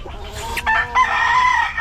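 A rooster crows once nearby from its coop, a loud rising then sustained call lasting just over a second, with faint background noise before it.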